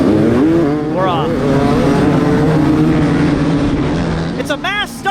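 Pro hard enduro motorcycles leave the line together in a mass start at the Bad Medicine Hard Enduro, a loud continuous roar of engines revving up, with voices and passing engine whines near the end.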